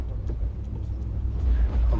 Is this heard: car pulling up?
yes